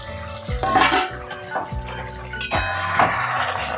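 A metal lid is lifted off a pot of simmering tengra fish curry, giving a couple of sharp clanks and ringing metal scrapes over a low bubbling sizzle, with no voices.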